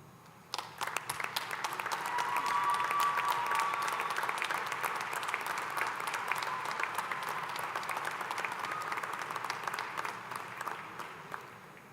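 A commencement audience applauds faculty and staff in a long, steady wave of clapping that swells early, holds dense and loud for several seconds, then thins slightly toward the end.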